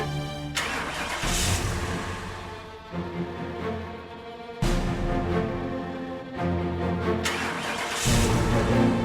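A car engine being started, heard as a loud, steady mechanical rumble with repeated surges and bursts across the stretch, with no voices present.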